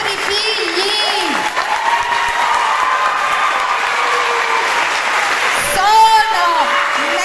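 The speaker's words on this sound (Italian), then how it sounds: "Un applauso forte ai vostri figli." Loud, sustained audience applause at an end-of-year school performance, parents clapping and cheering steadily, with excited voices rising above the crowd near the start and again toward the end.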